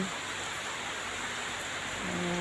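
Steady broadband rain falling outdoors after a spell of sunshine, a continuous even hiss with no distinct drops standing out and no voices.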